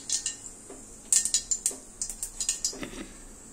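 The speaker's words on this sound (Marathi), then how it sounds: "मोहरी छान तडतडली." Mustard seeds spluttering in hot oil in a kadhai for a tempering, heard as rapid sharp pops and crackles in quick bursts, close and fairly loud, with small clinks among them.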